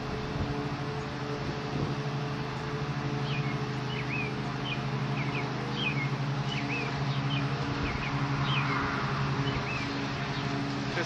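A low, steady hum of honeybees buzzing at a hive, with faint bird chirps scattered over the droning background.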